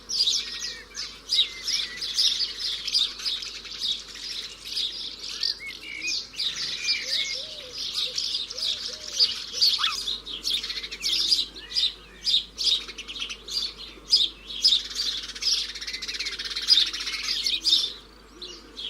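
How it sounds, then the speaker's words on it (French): Swallows feeding their young, with rapid high chirps and twittering calls from several birds repeating throughout, close and busy, over a faint low background rumble and no speech. "Les hirondelles nourrissent les leurs."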